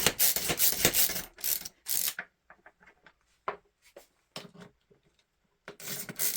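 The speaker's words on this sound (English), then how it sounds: "This is a Stanley Yankee style screwdriver." Quick bursts of ratcheting clicks from a Stanley Yankee-style screwdriver driving a screw into an old plane come close up, pausing between runs, with smaller scattered clicks and scrapes in the quieter gaps.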